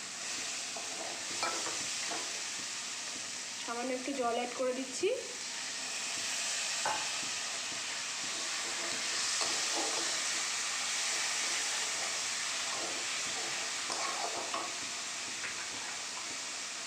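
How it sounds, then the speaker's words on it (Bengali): Fried red crabs cook in a spicy masala, a soft continuous sizzle with occasional stirring, while a voice speaks briefly in the background. "এবার ভাজা কাঁকড়াগুলোকে ছেড়ে দিচ্ছি।"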